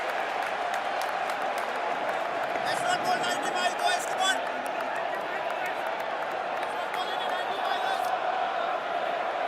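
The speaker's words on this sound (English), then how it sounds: "Not a full crowd by any means, but a lot of noise." Noise from a partly filled stadium crowd at an India Test cricket match, a loud continuous roar with scattered cheering and clapping, and a faint voice underneath.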